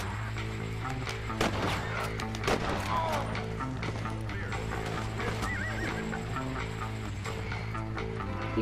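In the Red Dead Redemption video game, a horse whinnies loudly amid clip-clopping hooves, gunshots and a busy game soundtrack.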